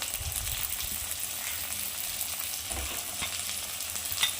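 Peas stir-fry in oil with finely chopped capsicum and carrot, a steady, fairly quiet sizzle with faint stirring movements throughout.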